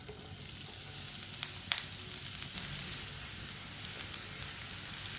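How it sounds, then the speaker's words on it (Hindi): Finely chopped onions fry quietly in a small amount of oil for masala bhindi, giving a soft, steady sizzle with a few faint clicks as they are stirred. "प्याज को हल्का सा ब्राउन कर लेंगे"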